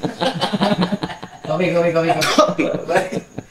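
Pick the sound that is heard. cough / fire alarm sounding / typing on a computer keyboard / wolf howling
cough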